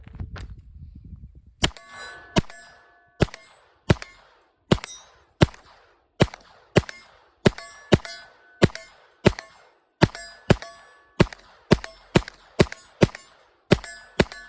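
Flux Raider braced handgun firing at distant steel targets, each faint shot followed by a sharp ringing clang, about twenty evenly spaced hits over the stretch after a brief low rumble.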